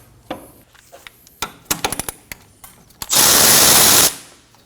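17mm socket on an impact tool loosening a nut on a 2011-2016 Kia Optima front steering knuckle: scattered metallic clicks and taps, then a loud one-second burst of rattling impact-gun hammering that cuts off sharply.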